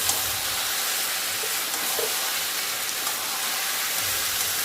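Spiced meat fries in a pan, seasoned with turmeric, salt and a pinch of cumin powder, with a steady broadband sizzle and faint stirring scrapes continuing throughout at close range.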